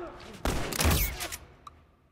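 A tactical shotgun fires in The Last of Us multiplayer, one loud booming blast followed by a rolling echo and fading debris, then a couple of faint clicks.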